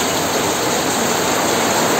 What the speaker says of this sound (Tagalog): Lakas talaga dito yung ulan.